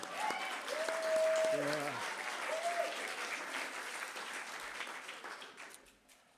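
At a Medicare at 50 gathering, an audience breaks into sustained applause, steady clapping mixed with a few shouts and a brief spoken word, slowly fading out near the end.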